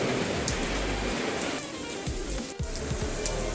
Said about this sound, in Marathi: पाऊस बाहेर तुम्ही बघू शकता. कंटिन्यू पाऊस चालू आहे